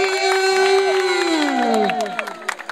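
A crowd at a cricket cup prize distribution whoops and cheers loudly, with sustained shouting voices up close, then breaks into scattered claps and fades near the end.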